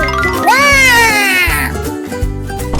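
A cartoon cat meows with a rising, drawn-out cry over background music, loud and close, followed by a softer second call.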